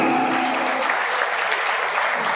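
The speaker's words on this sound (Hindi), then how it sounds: "जोरदार तालियों से स्वागत कीजिएगा अजहरुद्दीन साहब का।" Loud, dense applause from the crowd at a pigeon flying tournament prize ceremony in Rajasthan, greeting an honored guest; steady clapping runs throughout the short stretch, close and unbroken.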